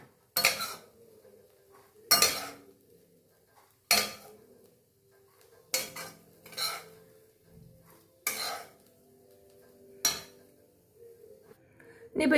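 Cooked food is scooped from a pan into a vessel, a spoon scraping and clanking against metal in about seven separate strokes with quiet gaps between them.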